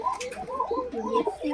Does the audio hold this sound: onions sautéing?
no